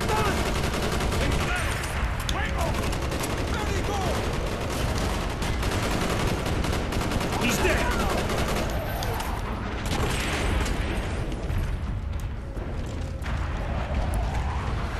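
Sustained gunfire and explosions from a Call of Duty: Black Ops single-player campaign battle, dense and loud throughout with continuous bursts and booms and no clear gaps.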